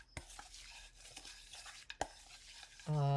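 Chocolate bar ingredients stirred together in a bowl: soft intermittent scraping and tapping strokes, fairly quiet, ending in a loud steady hum.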